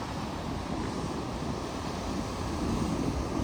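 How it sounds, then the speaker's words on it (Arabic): The constant roar of Niagara Falls in winter, a dense broadband rush of falling water heard as a steady, even wash with no voices. "صوت الشلال كلش قوي"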